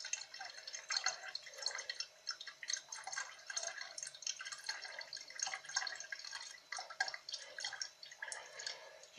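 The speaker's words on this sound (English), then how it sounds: "Just want to keep it going, just let it siphon off nicely." Orange mead trickles through a siphon tube as it is drawn off the sediment layer into another vessel, a steady soft dripping and bubbling liquid flow that continues without pause, close and fairly quiet, with no talking.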